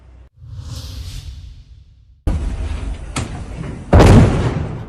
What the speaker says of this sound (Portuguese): Uma explosão seguida de um incêndio.